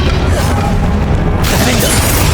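A Confringo fire spell explodes in Hogwarts Legacy combat, a loud sustained booming blast with crackling debris that fills the whole stretch before easing slightly near the end.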